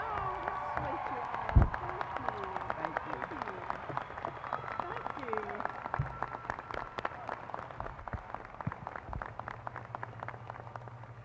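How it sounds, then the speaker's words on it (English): A commencement crowd at Tarrant County College applauds the retiring campus president, with dense, steady clapping sustained throughout and voices mixed in underneath. "let's give her a big round of applause"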